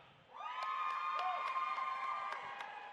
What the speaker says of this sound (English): Who's cheering for Ravenclaw?